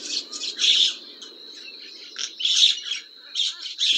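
A myna bird gives repeated bright chirping and squawking calls in short bursts, fairly close and clear, with brief pauses between phrases.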